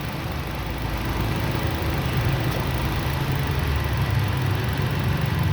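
A Nissan Grand Livina engine idles steadily with the air conditioning on after an ignition coil repair, a close, even low hum and faint vibration with no talk.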